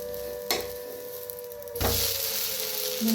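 Dosa batter cooks on a hot pan with oil drizzled around the edges: a light crackle turns into a louder, steady sizzle partway through, with a brief clatter before it.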